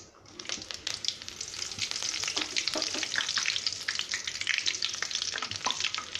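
Curry leaves crackle and spit in hot oil with popped mustard seeds for mango pickle, a bright, busy sizzle with many rapid pops that builds and stays fairly loud throughout.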